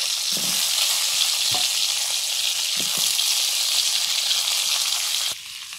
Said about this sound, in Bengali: এবারে আলুগুলো ভেজে নিচ্ছি